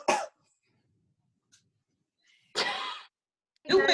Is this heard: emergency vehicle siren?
no